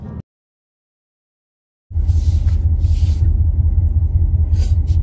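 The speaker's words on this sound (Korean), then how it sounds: "컴포트 모드 기준의 아이들링 소리고요" A Mercedes CLE 450 4Matic coupe's inline-six idles in comfort mode, a steady low rumble that starts abruptly after a brief silence and holds evenly at close range.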